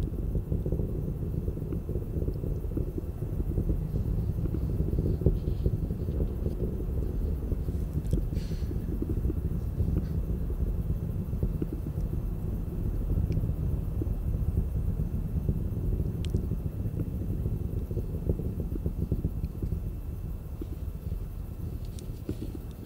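SpaceX Falcon 9 rocket engines during the CRS-15 cargo launch, a continuous dense low rumble and roar holding steady for over twenty seconds, with no speech over it.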